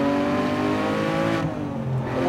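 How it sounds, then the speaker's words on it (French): A Porsche 911 R engine in sport mode, loud and close, holding a steady droning note before a quick throttle blip lifts and settles the revs. "En mode sport, eh bien la voiture fait le petit coup de gaz à l'ancienne"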